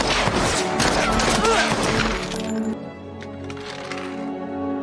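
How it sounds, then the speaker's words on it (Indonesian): A rapid burst of gunfire cracks out over a dramatic soundtrack, the shots dense and loud before fading into the background music. "tanpa ragu membedil mereka semua"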